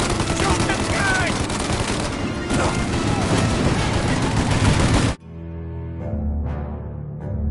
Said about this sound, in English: Now! Shoot the gun!